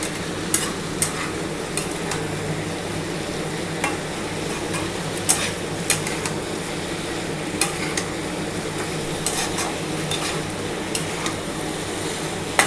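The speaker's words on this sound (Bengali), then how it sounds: "ভালো করে মশলাটা দিয়ে নাড়াচাড়া করতে হবে।" Cabbage with spices is stirred in a pan, a steady sizzle of frying under repeated sharp clicks and scrapes of the spoon against the pan, with no talking.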